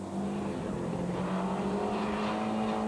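A rally car at the 2001 Nations Cup Rally at Knockhill, its engine droning steadily at a constant pitch at moderate distance, with no talking.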